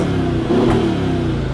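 A Mercedes-AMG 63 engine in Sport Plus mode revs in a brief, loud, steady roar close by.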